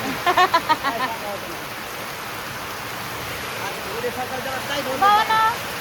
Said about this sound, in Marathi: पाऊस यायला लागलाय